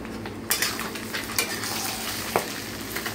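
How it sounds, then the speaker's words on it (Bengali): Eggs frying in hot oil, a close crackling sizzle broken by sharp scraping and clinking strokes of a spatula in the pan as the eggs are moved and lifted. "ডিম হয়ে গেছে ভাজা, ডিমগুলোকে উঠিয়ে নিচ্ছি।"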